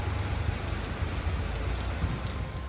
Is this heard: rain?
yes